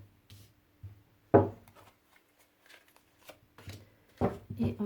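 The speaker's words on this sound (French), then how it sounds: "On va prendre une carte, si j'en ai besoin d'autres, j'en reprendrai une" Oracle cards are shuffled and drawn by hand in a quiet room, giving soft scattered riffles and slaps with a sharper snap partway through and a short burst near the end.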